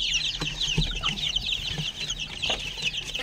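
Young chickens clucking and cheeping busily around food and water, a dense, continuous chatter of small chirps with a few louder clucks nearby, with no talking.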